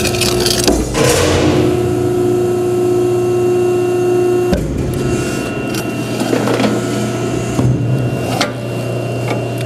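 A Krras 12-foot guillotine shear for 1/2-inch plate makes a 1-inch cut: a loud steady machine hum with a sharp clunk of the blade near the middle, followed by rattling and clatter.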